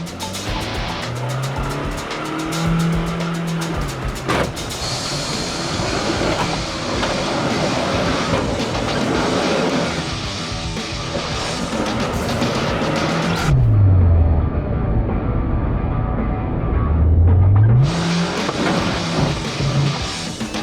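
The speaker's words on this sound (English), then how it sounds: "smoking up the tyres a bit, we're starting to dry them out a touch," A GWM four-wheel drive spins its wheels and smokes its tyres while climbing a steep rocky off-road hill. Engine revs rise and fall in loud sweeping surges, with strained droning and scrabbling tyre noise throughout and no talking.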